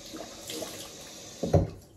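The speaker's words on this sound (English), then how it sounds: "I'm gonna put some hot water on my face to soften the beard again." Hot water from a sink tap is splashed onto a man's face before shaving: a steady low running-water hiss, then a brief close splash of water hitting skin near the end.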